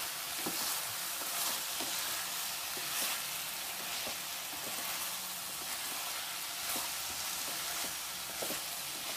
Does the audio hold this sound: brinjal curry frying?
yes